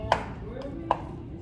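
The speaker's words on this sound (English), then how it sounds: "I'm gonna discard those and do a rough chop on this" Rough chopping of stemmed fresh herbs with a knife on a board, two or three sharp, separate chops over a low steady background.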